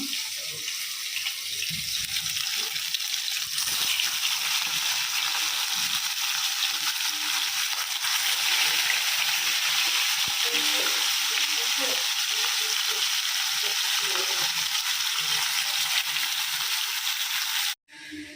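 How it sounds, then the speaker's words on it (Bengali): Marinated fish frying in oil for doi katla, a steady loud sizzle and crackle filling the whole stretch with faint clinks underneath, cutting off sharply just before the end. "তো আমার মাছ ভাজা হয়ে গেছে"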